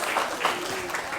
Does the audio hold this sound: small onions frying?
no